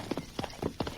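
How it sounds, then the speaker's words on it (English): Hooves of a great white stallion clip-clopping in an old Western radio drama, four quick paired hoof beats in an even rhythm, fairly quiet and without voices. "the Lone Ranger let the great horse carry him upward at a pace no other horse could ever achieve"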